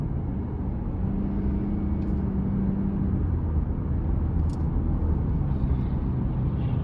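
A 2022 GMC Canyon Elevation extended cab with the 2.5 engine pulls through low-gear shifts, its steady, loud engine rumble and road noise filling the cabin continuously, with no talk over it.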